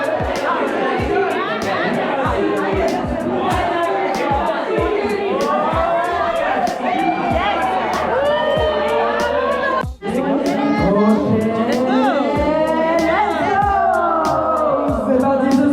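A crowd of English people chatters at a gathering in Ha Giang, Vietnam, with a steady wash of overlapping voices close by and a brief drop near the middle; no distinct cheering stands out.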